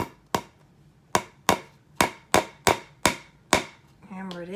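Nail driven in with a hammer while building a suspended paint pour cup: eight sharp, loud metallic strikes at an uneven, steady pace, then a brief voice at the end.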